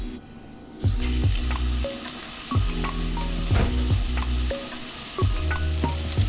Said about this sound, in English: We're gonna drop our pork sausage into there.